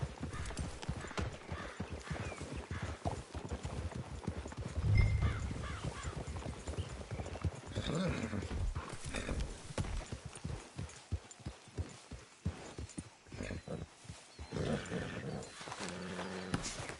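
Horse hooves clip-clop steadily in a Red Dead Redemption 2 game scene, a continuous rhythmic trot with faint ambient noise and a brief low snort.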